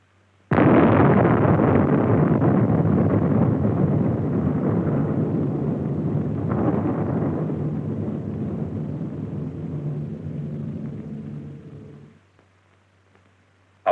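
A 1952 Operation Tumbler-Snapper nuclear test shot: a sudden loud blast followed by a long, sustained rumbling roar of the blast wave that slowly fades over about eleven seconds before cutting off.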